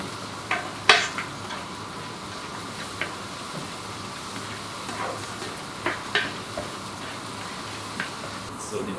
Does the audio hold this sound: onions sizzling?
yes